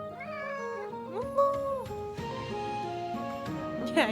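A house cat meows several times in a row, a near, tonal cry with rising and falling pitch, set against a bed of background music.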